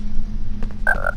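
A single short, loud croak from a chocolate frog in the PlayStation game Harry Potter and the Philosopher's Stone, heard alone over a low background hum.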